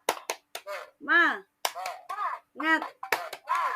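A group of teachers at a school training session performs a rhythmic spirit clap, with sharp, crisp claps falling in short bursts between loud chanted shouts from several voices.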